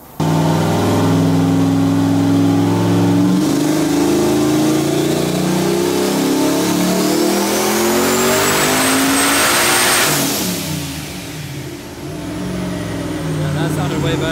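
Loud LS V8 swapped into a Mazda RX-7 screaming through a full-throttle dyno power run, revs climbing steadily for about ten seconds before backing off to a rough, lumpy idle.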